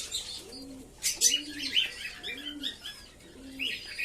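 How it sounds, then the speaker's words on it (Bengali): Kakji pigeons coo in a steady series of four low, rounded calls, evenly spaced and fairly close, while fainter chirps from other birds flicker in the background. "দু পেয়ার কাকজি পায়রা আছে।"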